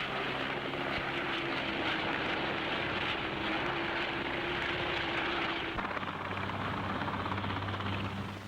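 Westland helicopters, among them three Wessex types, a Whirlwind, a Scout, a Sioux and a Wasp, fly past in parade at the Farnborough airshow, giving a loud, steady rotor and engine roar that carries on throughout with a shift in tone near the end.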